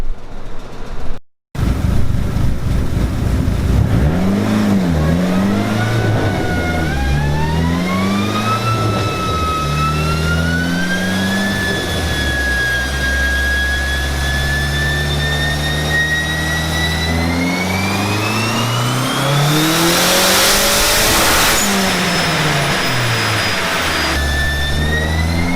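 A big-turbo Dodge SRT-4 engine revs hard on a dyno, loud and close, its pitch sweeping up through long pulls with a brief drop and a turbo rush near the end; no talk.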